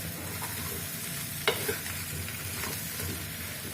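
Crab fry sizzles steadily in a hot pan while being stirred, a continuous frying hiss with a couple of sharp scraping clinks from the spatula partway through, close and moderately loud with no talking.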